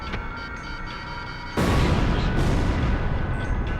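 A SAM site blows up in the combat flight game Ace Combat Zero, a sudden loud, heavy blast that bursts in partway through and rolls on as a sustained rumbling roar over steady background engine noise.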